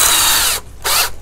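A 7/8 drill bit bores through a plastic five-gallon bucket, with two loud, close bursts of power-drill whine separated by a short pause.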